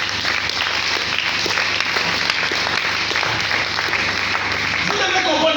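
A church congregation claps loudly for the Lord in a dense, steady roar of applause that fills the room without break, with crowd voices mixed into the clapping.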